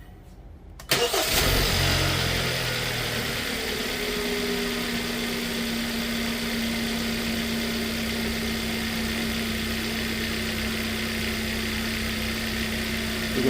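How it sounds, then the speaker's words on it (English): A car engine cranks and catches after a crankshaft position sensor replacement, then settles into a steady, even idle that runs close and loud for over twelve seconds. "with the crankshaft position sensor now replaced, let's start the vehicle"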